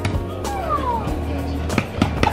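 A cat meowing indoors, with a drawn-out falling meow early on, then a few shorter chirping meows, close and clear over a low background hum.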